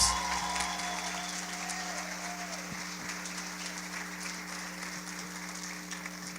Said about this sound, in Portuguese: Vamos aplaudir a Jesus pela vida desses meninos?